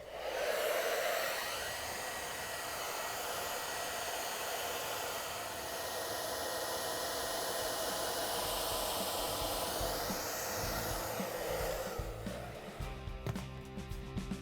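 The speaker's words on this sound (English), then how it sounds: "you can grab a hair dryer and put it on the low heat" A hair dryer on low heat blows with a steady airy whir and hiss up close, warming a refrigerator freezer door gasket, shifting slightly in tone before cutting off near the end.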